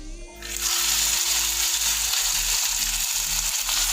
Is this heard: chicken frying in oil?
yes